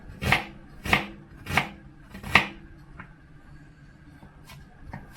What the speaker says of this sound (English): And again, chop it up fairly small.